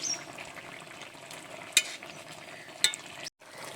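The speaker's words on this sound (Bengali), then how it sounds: "দিয়ে একটু নেড়ে চেড়ে লাভিয়ে নেব" Pond fish curry with potatoes, jackfruit seeds and spices gets stirred in a pan, a soft steady sizzle with a couple of sharp scraping clinks of the spoon against the pan, quiet and close, no talking.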